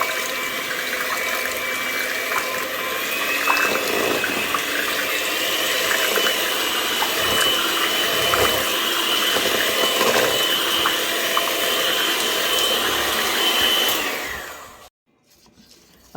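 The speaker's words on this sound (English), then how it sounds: "I'm gonna use a hand mixer to mix it" A handheld electric mixer runs steadily for about fourteen seconds, blending rice noodle batter in a bowl with a continuous whirring drone, then switches off and falls silent near the end.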